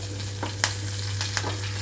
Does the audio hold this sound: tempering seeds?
yes